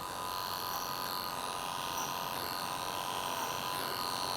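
Electric hair clippers fitted with a 3½ guard buzz steadily and close up while cutting a man's hair during a fade haircut, one unbroken whirring drone with no talk.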